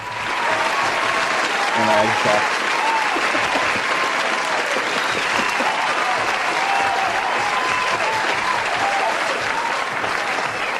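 Steady crowd applause and cheering in the video game EA College Football 27 fills the whole stretch, dense and continuous, with a voice speaking briefly over it.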